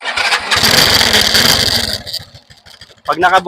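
A SYM Bonus motorcycle engine cranks and catches with a loud, close buzzing whir, settles into a chugging idle, then a voice speaks briefly at the end.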